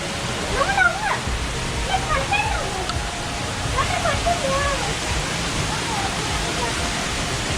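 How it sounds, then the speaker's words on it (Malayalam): A small waterfall pours with a continuous close hiss and splash, while voices talk over the rushing water. "ഇവിടെ എന്താ വെള്ളച്ചാട്ടം പോലെ സൗണ്ട് കേൾക്കുന്നടാ"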